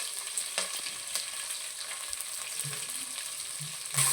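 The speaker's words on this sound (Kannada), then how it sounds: "ಇವಾಗ ಕಟ್ ಮಾಡ್ಕೊಂಡಿರೋಂಥ ಈರುಳ್ಳಿ ಸೇರಿಸ್ತಾ ಇದ್ದೀನಿ" Chopped onions sauté in a pan for tomato rice, giving a soft, steady frying hiss with occasional light stirring clicks, quiet and close with no voices.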